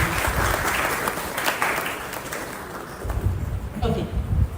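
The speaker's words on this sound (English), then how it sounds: "Please let's give a round of applause to our to you once again." Audience applause fills an opening ceremony for a leadership training program in Accra, steady and sustained throughout, with some voices mixed in and a swell toward the end.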